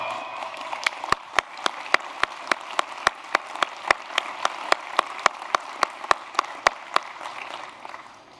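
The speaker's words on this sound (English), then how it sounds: "You law folks came ready to cheer." Applause at a 2017 Wake Forest University commencement ceremony, a steady wash of crowd clapping punctuated by sharp, evenly spaced loud claps, as if someone nearby keeps a rhythmic beat throughout.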